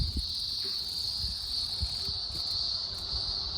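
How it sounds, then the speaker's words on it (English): Cicadas in the Blue Mountains drone in a steady, loud high-pitched buzz that runs without a break, with a few soft low thumps and rustles underneath. "these cicadas are truly beautiful creatures"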